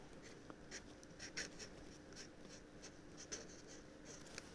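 Black Pilot pen writing on paper, a quiet steady scratching of the tip with small ticks and strokes, close up and faint, with no talking.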